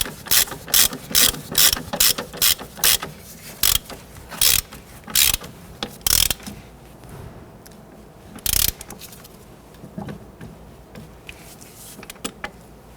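A ratchet tightens a nut on the front lower control arm of a 1992–1996 Toyota Camry: about a dozen sharp, loud ratcheting bursts in quick succession up close, then quieter scattered clicks.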